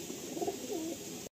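A pigeon coos close by, a soft low throaty burble repeated a couple of times over a steady background hiss, with no talking.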